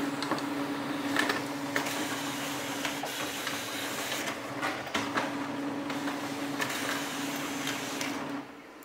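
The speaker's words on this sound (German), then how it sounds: "Jetzt testen wir den Duplex-Druck." Lexmark MB2236i multifunction laser printer doing duplex printing, a steady close mechanical whir and hum with rhythmic clicks and paper-feed rustles, stopping abruptly near the end.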